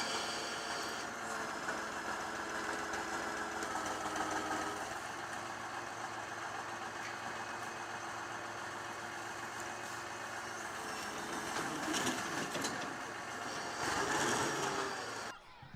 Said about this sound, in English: Unloading a timber truck using a crane and cables is a common and efficient method in modern forestry logistics.